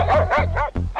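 A dog barks at a person approaching it, giving four quick, loud, close barks in about a second.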